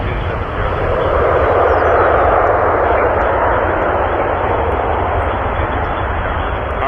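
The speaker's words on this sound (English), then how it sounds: "RJs are loud." A regional jet at Toronto Pearson airport roars loudly and steadily for several seconds, a broad, close engine rush that barely changes in level.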